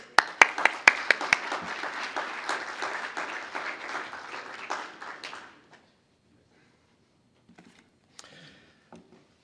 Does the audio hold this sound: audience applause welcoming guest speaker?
yes